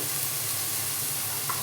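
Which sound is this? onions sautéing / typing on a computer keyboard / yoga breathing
onions sautéing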